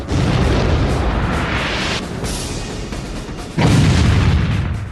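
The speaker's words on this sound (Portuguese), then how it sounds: "Balas de canhão chovem sobre o estreito da Dinamarca." Heavy naval gunfire from the battleship Bismarck in the Denmark Strait booms out in two loud, rumbling salvos with a lull between them, set against a dense, continuous roar.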